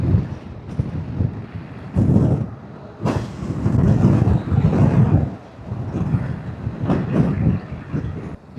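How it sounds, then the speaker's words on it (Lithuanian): Strong gusting wind in a snowstorm buffets a rider on a motorcycle, roaring in uneven surges and dips through the whole stretch with no talk over it. "Koks vėjas, baisu."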